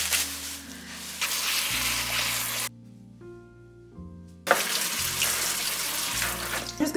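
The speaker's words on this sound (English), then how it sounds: "So I'm just gonna wash all these tomatoes." Tomatoes are washed under a running kitchen faucet, and the water gushes and splashes loudly into the sink. The flow stops briefly midway, then resumes with steady spraying while soft music plays underneath.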